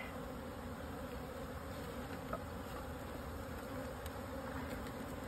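Dense, steady buzzing of many honeybees fills the air around a hive, a constant drone with occasional individual bees passing close.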